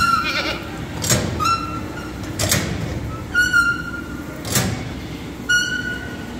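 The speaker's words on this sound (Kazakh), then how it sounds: "Ешкілер француз екен." French Alpine goats bleating on a goat farm, several loud, wavering calls spaced a second or two apart, with a metal gate or door sliding and clanking in between.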